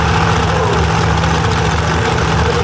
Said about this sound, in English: the Willis machine of Gary Sabella out of North Carolina with that big 540 Richard Midget